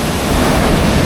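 Sea waves crashing and splashing against an old fish landing structure at Lemery, Batangas, a loud, close, continuous rush of water and wind with no talk.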